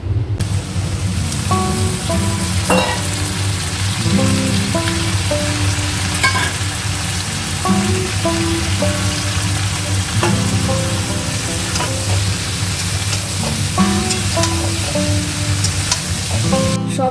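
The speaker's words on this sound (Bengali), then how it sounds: "সবজি দিয়ে ভালো করে একটু আদা বাটা জিরে বাটা দিয়ে কষিয়ে নিয়েছি" Mixed vegetables (brinjal, pointed gourd, pumpkin, long beans, papaya and carrot) sauté loudly in a pan with ginger and cumin paste, a dense continuous sizzle with repeated spoon scrapes and clinks throughout.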